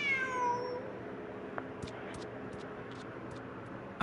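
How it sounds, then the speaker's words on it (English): A video game cat gives a clear, close meow at the start, followed by quiet ambient game background with faint soft clicks. "Who's a good kitty?"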